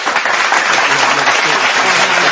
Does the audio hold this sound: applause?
yes